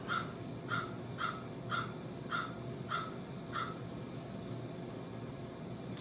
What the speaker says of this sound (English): Crows are making a noise out there.